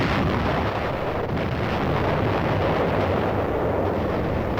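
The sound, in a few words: naval ships firing guns point blank at island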